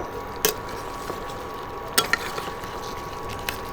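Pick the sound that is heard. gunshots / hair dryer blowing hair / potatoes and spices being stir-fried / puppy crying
potatoes and spices being stir-fried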